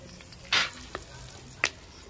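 Dried red chillies, whole garam masala and a bay leaf hit hot oil for tempering, giving a close steady sizzle with a few sharp crackling spurts and a faint stir.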